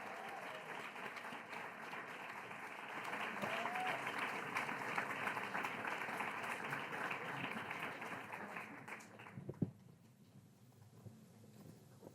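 An audience at a literary festival opening applauds in welcome of writers, steady dense clapping sustained for about nine seconds before dropping off abruptly to a quieter room.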